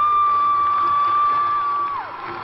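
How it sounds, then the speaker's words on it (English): Crowds cheering in the streets of Vancouver as Rick Hansen finishes his Man in Motion marathon, a steady wash of distant voices with a sustained high whistle or tone running through most of the moment. "with cheering crowds filling the streets of Vancouver"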